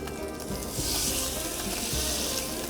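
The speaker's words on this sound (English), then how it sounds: "You can hear that sizzle." A whole crappie sizzles loudly in a smoking-hot pan on a wood stove, a steady dense crackle and hiss with occasional pops, close by.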